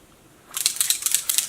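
A beauty setting spray bottle with a shaker ball inside is shaken, giving a quick series of bright, rattling clicks in a steady rhythm that starts after a brief quiet moment, close and fairly loud.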